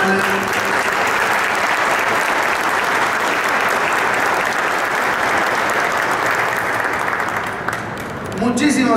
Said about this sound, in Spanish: vamos a darle un aplauso a Tatiana